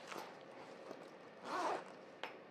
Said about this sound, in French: donc elle se ferme avec fermeture éclair bien entendu